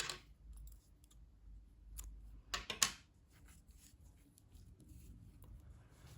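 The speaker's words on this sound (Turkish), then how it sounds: "İpliği kesiyorum." Scissors snip through crochet yarn on a finished baby vest, a couple of quick, faint close clicks clustered near the middle of a quiet stretch with no voices.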